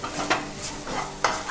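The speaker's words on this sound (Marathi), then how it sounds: "मसाल्यामध्ये परतवून घ्यायचा आहे" Malvani masala with turmeric being sautéed in a pan for a prawn curry, a steady close sizzle with two or three scraping stirs of a spoon against the pan.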